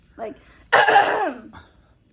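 A short throat sound followed by one harsh, forceful cough, close and loud, then a faint trailing breath.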